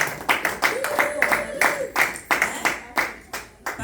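Scattered rhythmic applause at a church gathering, hands clapping in steady beats of moderate loudness, with a voice calling out briefly partway through.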